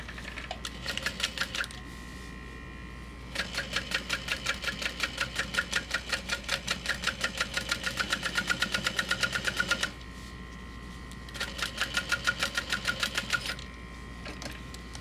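Sewing machine top-stitching a backpack panel runs in rapid rhythmic bursts of needle clatter, a short burst, a long steady run, then another burst, with quiet pauses between, close and clear.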